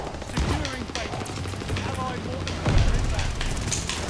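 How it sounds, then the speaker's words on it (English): Gun fired from the hip in Call of Duty Vanguard, dense bursts of rapid gunfire with a heavy blast near the end, mixed with game effects while a person talks over it. "I'm only hip firing here."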